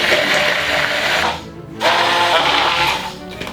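A kitchen blender motor whirs loudly and steadily as olive oil goes into a curry sauce, cutting out briefly and then starting again for a second continuous run.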